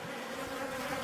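Apis cerana indica honey bees swarm around an open feeding spot in Himachal Pradesh, India, giving a dense, steady, moderately loud buzz without a break.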